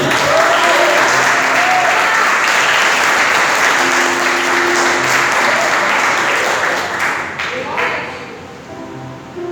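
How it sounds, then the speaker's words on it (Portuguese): A church congregation at a night vigil applauds loudly and continuously, a thick roar of clapping that thins out near the end as voices and cheers show through. "Você pode aplaudir Jesus?"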